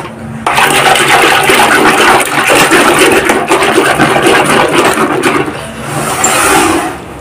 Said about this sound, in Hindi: तो पानी डालूंगी मैं